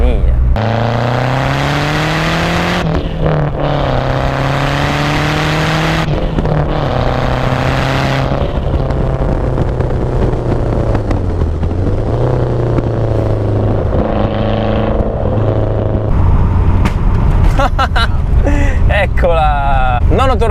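A Lancia Delta Integrale Evo 2 is driven hard on a mountain road near Asiago, its engine revving up and down repeatedly through gear changes, loud and close. A voice talks over parts of it.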